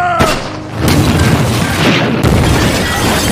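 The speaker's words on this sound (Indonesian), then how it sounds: "Namun tidak dengan Letnan Compton, satu tembakan dari roket launcher berhasil menghancurkan senapan mesin musuh." Rocket launcher blast destroying an enemy machine gun in a World War II film battle, a sudden heavy boom followed by a long rumbling roar, then a second sharp blast.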